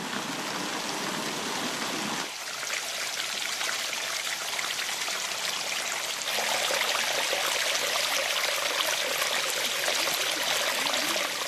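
Water flows continuously down the water staircase in the Islamic gardens of the Alhambra, a steady rushing trickle close at hand that swells slightly louder partway through, with no voices.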